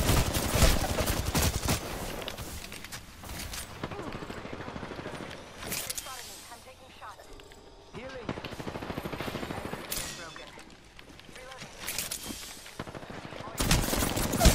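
Heavy automatic gunfire in an Apex Legends firefight, dense rattling bursts near and loud, swelling and easing across the clip with brief lulls and a voice talking underneath.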